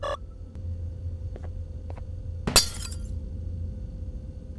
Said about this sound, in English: It just broke the glass.